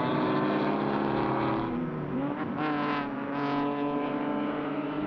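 GTS race cars at Mid-Ohio sweep down into the Keyhole corner, a loud continuous engine roar with rising and falling pitch as the cars shift and pass close by.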